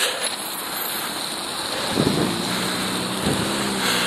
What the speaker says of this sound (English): there's a lot of wind that comes through here because of those buildings